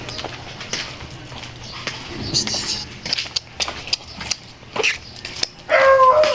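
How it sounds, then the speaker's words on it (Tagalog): A few short dog barks come at a distance, scattered among footsteps and outdoor noise, with people talking nearby. "may aso dun, oh."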